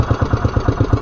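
A fishing boat's engine idles off Naic, Cavite, with a loud, close, steady low thumping pulse repeating about eight times a second.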